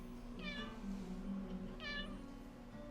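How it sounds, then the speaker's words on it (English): A pet cat meows twice indoors, two clear, fairly close cries about a second and a half apart over a low steady background hum. "See? Cat? Cat? That's my cat."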